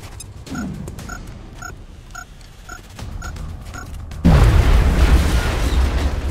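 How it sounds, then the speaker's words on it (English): A grenade goes off in the video game XCOM: a deep, loud boom with a long rumbling tail, following a stretch of quieter game sounds and repeating electronic beeps. "Grenade for you."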